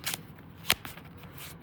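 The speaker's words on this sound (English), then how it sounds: "So I'm going to just shuffle real quick." Cards for the Revenant board game being shuffled by hand, three sharp riffling bursts separated by quieter handling, close and crisp with no talk.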